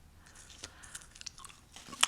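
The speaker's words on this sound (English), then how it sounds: "I'm going to chew my extra bubblegum flavored gum." Close, soft chewing of extra bubblegum-flavored gum, with scattered moist smacks and clicks and a sharper snap near the end, intimate and quiet with no talking.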